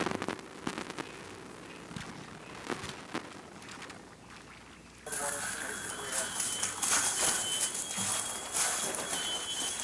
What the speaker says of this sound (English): there's explosions coming from the garage